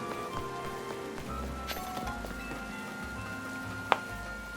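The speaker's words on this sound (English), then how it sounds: "Oh, it's raining." Steady light rain patters continuously in the video game Pokémon Legends: Z-A, with a faint low hum underneath and one brief sharp tick near the end.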